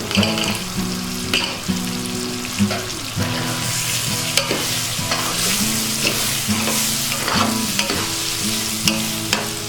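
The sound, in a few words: kidney beans stirred into sizzling gravy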